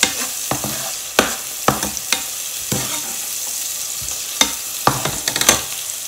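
Onion and garlic frying in a pan, with a continuous close sizzle broken by sharp, irregular clacks of a utensil stirring and tapping against the pan, no voices.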